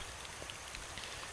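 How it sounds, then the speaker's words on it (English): Steady rain falls in the video game Starbound, a continuous soft hiss of droplets with faint scattered patters, even and quiet throughout with no talking. "I hope it's raining."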